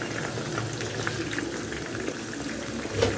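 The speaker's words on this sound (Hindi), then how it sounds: "अब यहाँ पे चिकन जो है ना फ्राई होना शुरू हो रही है" Chicken sizzling in a pan as it begins to fry for a home-style roast, a steady close crackle and bubbling hiss without pause.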